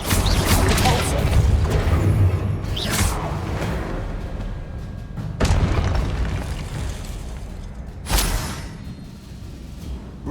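Repulso spell blasts in the video game Hogwarts Legacy, several booming magical bursts with whooshes spread across the stretch amid combat clatter, with a voice talking in between.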